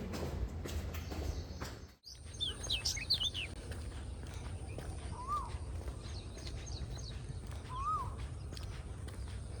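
An Asian koel sings outdoors on a morning walk, giving two separate rising whistled calls at a moderate distance, with faint chirps from other birds in the background.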